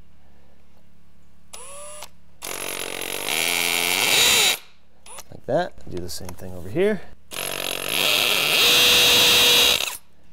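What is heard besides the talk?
hammer drill drilling into concrete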